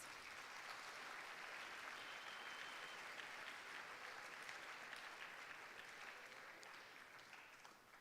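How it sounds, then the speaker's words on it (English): A seated audience at a university awards convocation applauds the freshmen, steady dense clapping that holds evenly for about eight seconds and thins slightly at the end. "Congratulations to our freshmen. Let's give them a round of applause."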